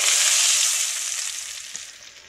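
Corn mixture for baked pamonha stirred in hot oil in a pan, a steady close sizzle and crackle that fades gradually, with a few faint scrapes of stirring near the end.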